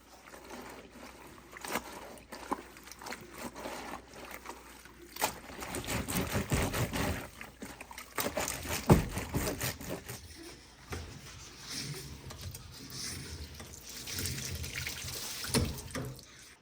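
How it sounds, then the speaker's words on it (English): Laundry scrubbed by hand in warm water at a remote off-grid Alaska cabin: close, irregular sloshing and splashing bursts with wet rubbing, and no talk. "I'm just gonna go ahead and give this a good scrub"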